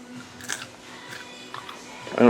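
Crisp fried breaded shrimp crunched up close in a few short, sharp bites spaced across a couple of seconds, the last crunch loudest.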